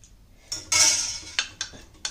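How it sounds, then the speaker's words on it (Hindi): A whisk or spoon clinks and scrapes in a bowl while custard powder is beaten with milk for fruit custard, giving a handful of close, sharp metallic taps and a brief swish with no talk. "इस तरह से इसको हमको फेंट कर तैयार करना है।"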